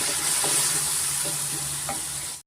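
Tomato puree for channa masala fries in hot oil with a bright, even sizzle and several light stirring taps over a low hum, with nobody speaking.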